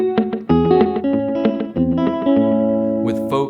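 An electric guitar picks a clipped melody through a Strymon El Capistan tape echo pedal set for slapback, each note followed by a quick single repeat, played clean and close with no talking.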